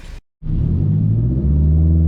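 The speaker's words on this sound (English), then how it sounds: "Car just sputters at the end." A Nissan Silvia S14 with a running issue cuts out abruptly after a brief burst, then restarts into a loud, close, low rumble that wavers slightly as it idles on.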